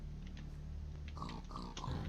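Faint, low pig grunts and oinks from mob spawners in a video game, a few short snorts in quick succession over quiet background hum.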